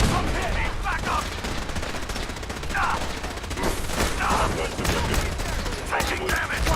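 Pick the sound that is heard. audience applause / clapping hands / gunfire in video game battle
gunfire in video game battle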